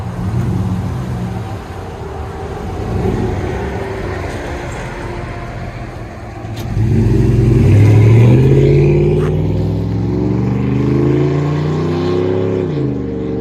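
A 2007 Dodge Ram 1500 4.7-liter V8 exhaust idles, then revs up loudly and climbs in pitch, the rumble close and strong with no talking.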